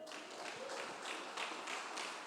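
A church congregation claps, a faint, steady patter of rhythmic applause with soft accented beats, distant and low in level.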